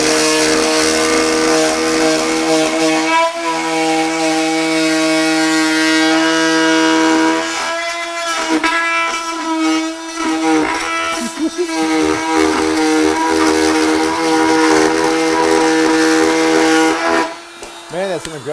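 A corded or cordless oscillating multi-tool with an aggressive blade whines loudly and continuously as it cuts, its pitch wavering under load and dropping briefly near the end, with voices talking over it.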